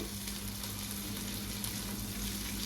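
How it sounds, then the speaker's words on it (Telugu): Masala of ginger garlic paste, mint and coriander frying in a pan for bagara rice, a steady close sizzle with a low hum and no talk throughout. "ఈ మసాలా అంతా ఇలా వేగింది కదండి"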